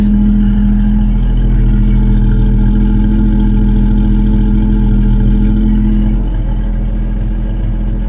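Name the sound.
vintage car engine exhaust running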